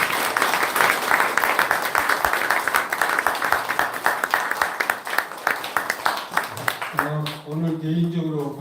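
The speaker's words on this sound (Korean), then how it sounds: "박수" Closing applause at an international Buddhist memorial symposium, a lively crowd clapping steadily for several seconds before it tapers off and a voice begins speaking.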